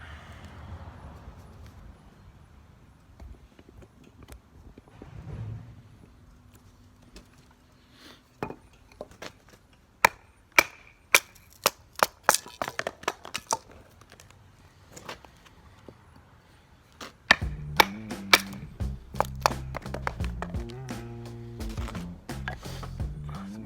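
A custom camp chopper knife chops into a knotty inch-thick piece of cedar, delivering a long run of sharp, distinct whacks that grow denser and heavier toward the end, with rougher thuds in the final stretch.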